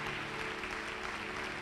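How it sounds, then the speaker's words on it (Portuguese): A church congregation applauds in praise, a dense continuous wash of clapping from many hands that holds at an even level throughout, with no voices standing out. "Dê uma salva de palmas ao Senhor."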